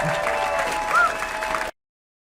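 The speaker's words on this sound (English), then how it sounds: "Keep clapping." Comedy club audience clapping for a stand-up comedian, a steady moderate wash of applause that cuts off abruptly after under two seconds.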